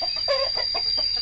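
Chickens cluck in short, repeated bursts at close range in a backyard pen, with a steady faint hum running underneath.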